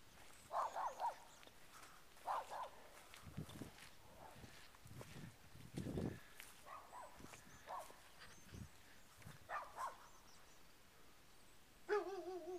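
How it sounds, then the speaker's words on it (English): Dogs barking off in the distance, several short bursts spread out over the stretch amid a soft outdoor background with faint footstep-like rustles. "dogs are always doing their dog thing"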